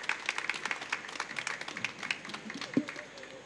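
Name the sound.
audience applause at end of conference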